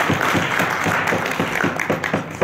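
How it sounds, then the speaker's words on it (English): Audience at a US-Uganda international trade summit and exhibition gives a round of applause, loud, dense clapping with distinct individual hand claps punctuating the steady patter over a short stretch. "Please, the audience, give them a round of applause."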